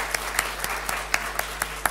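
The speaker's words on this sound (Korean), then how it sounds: "네, 한 번 더 박수하겠습니다." Congregation at a Korean church service honouring teachers claps together, a steady patter of many hands with sharper sporadic claps standing out, moderately loud and continuous throughout.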